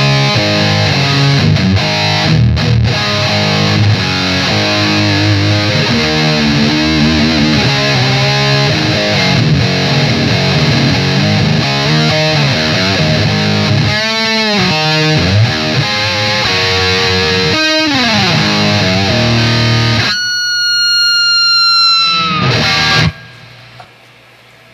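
An electric guitar runs through a Wampler Triple Wreck distortion pedal with the gain all the way up, giving loud, saturated, sustained chords and riffs that end in a burst of squealing feedback before cutting off.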